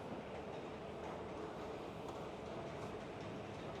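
A Singapore MRT Brown Line train rides along with a steady, faint rumble and hiss of wheels on rails heard from inside the carriage, continuous and even throughout.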